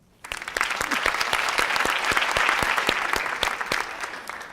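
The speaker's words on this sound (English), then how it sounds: "Please, please give a warm, warm round of applause to Haskel Jackson." A studio audience breaks into sudden applause to welcome a guest on a talk show, a full, sustained burst of clapping with a few sharp individual claps standing out, starting abruptly and tapering slightly at the close.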